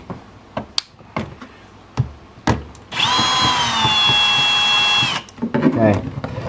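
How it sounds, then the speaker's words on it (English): A cordless power drill drives screws into a Toyota Supra's tailgate support, a sustained whine lasting about two seconds between scattered clicks and handling knocks. "just gotta be careful putting this back with the drill because I don't want to strip anything"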